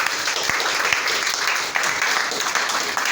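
Church congregation applauding in response to a call to acclaim the Lord, a dense, steady wash of many hands clapping throughout, with a few sharper claps standing out.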